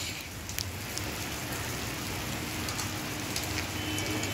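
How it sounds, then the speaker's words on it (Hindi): Rain falls steadily outdoors in India at the start of a shower, a continuous hiss of drops on surfaces with a few louder nearby drips. "ये देखिए यहाँ पर बारिश स्टार्ट हो चुकी है"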